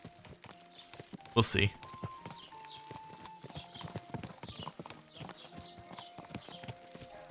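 A horse's hooves clip-clop in a rhythmic, moderately close trot within the medieval game Kingdom Come: Deliverance II, with a brief louder jingle and a speaker talking quietly.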